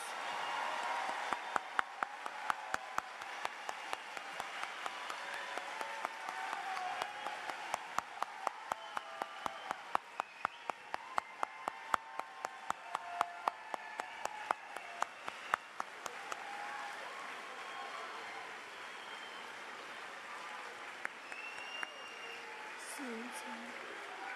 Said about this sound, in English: Daniel Yaverbaum, Audrey Zimmerman, Let's give our promoting 8th graders an enthusiastic round of applause.